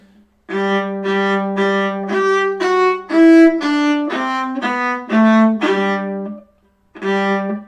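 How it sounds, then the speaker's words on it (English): A solo violin plays a run of separate, lifted spiccato bowed notes, each held briefly with slight gaps, rising then falling in pitch, clear and close. "a longer spiccato where you need to lift off at the ends and beginnings of every note"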